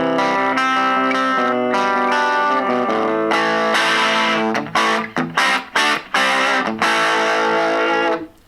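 A distorted electric guitar on the humbucker pickup, played through a LEKATO AG04 portable amp with gain, rings out loudly with sustained chords, then a few choppy stabbed notes before a final held chord fades out.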